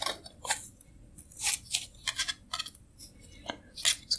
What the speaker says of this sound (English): Now I'm gonna wrap the knot in it with floral tape.